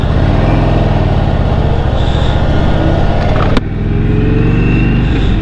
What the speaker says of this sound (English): it certainly revs out winningly, a little bit faster than the Harley engines